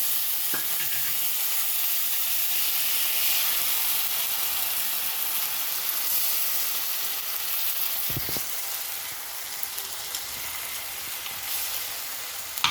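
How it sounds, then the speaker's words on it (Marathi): Ginger, garlic and coriander paste sizzles steadily in a hot pan for pav bhaji, a continuous bright hiss with a few soft stirring knocks and no voices. "इथे आपण आलं लसणाची आणि कोथिंबीरची पेस्ट टाकणार आहोत."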